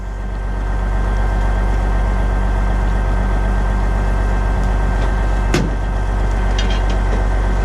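A 1943 Chevrolet 4x4 military truck's engine runs steadily and loud at close range, a deep continuous rumble throughout, with one brief sharp knock or clank partway through.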